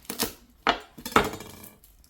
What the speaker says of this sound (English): So we're just going to take the end off,